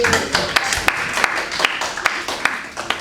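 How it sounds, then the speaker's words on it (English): A small classroom of students claps for a classmate during a lesson. A few scattered, sharp claps from nearby hands continue for about three seconds over a faint background murmur. "Give applause to Arianti."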